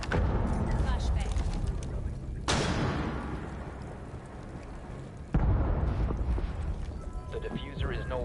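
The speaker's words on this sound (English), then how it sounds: "Flashbang." A flashbang grenade goes off in the video game Rainbow Six Siege, with sudden loud bursts near 2.5 and 5.3 seconds cutting through a dense bed of game noise and chatter.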